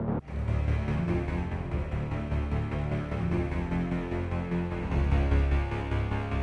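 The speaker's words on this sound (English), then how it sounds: "And now I add the low strings and they sound like this." Dense, steady low string section with a pulsing, rhythmically gated swell, rich deep tones sustained throughout within a fuller mix, no talking.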